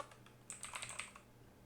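A short, quick burst of keystrokes on a computer keyboard, typed during a Django programming tutorial. The clicks are quiet and close, lasting under a second against a faint steady background hum, with no talking.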